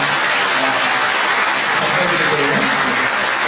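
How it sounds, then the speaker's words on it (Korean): A church congregation applauds a married pair of police officers during a Sunday afternoon worship service, a steady, dense clapping that fills the room evenly without a break. "예, 박수하겠습니다."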